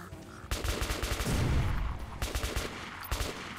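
Rapid bursts of gunfire in the Metro Last Light Redux video game, a dense rattling volley through the middle with sharper isolated shots after, loud and close.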